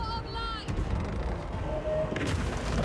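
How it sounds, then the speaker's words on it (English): A spell explosion in Total War: Warhammer, Bretonnia campaign at Carcassonne, bursts as a broad boom amid battle noise and game music, with a second blast arriving near the end. "That's an explosion that's going to do a nice amount of damage"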